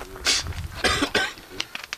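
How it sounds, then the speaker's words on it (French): A person coughs a few times in short, hoarse bursts close by, mixed with throat clearing and brief breathy sounds. "comment je tousse déjà"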